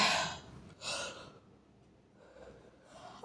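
A drawn-out yawn with breathy inhales and sighing exhales, close to the listener, with no talking.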